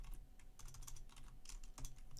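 Quick, irregular clicking of typing on a brand-new computer keyboard, close and fairly quiet, the keystrokes coming in bursts with a few heavier taps, no voices.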